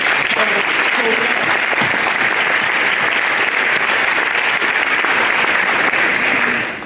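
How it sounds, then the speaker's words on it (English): Steady, loud applause fills a school awards day ceremony, a dense, even wash of many hands clapping that holds for several seconds with no talking over it, then tapers at the very end. "Applause to everybody."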